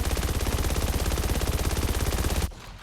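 The BP50 mythic gun in a video game fires one long, rapid, unbroken burst of shots at steady volume for over two seconds, then stops abruptly.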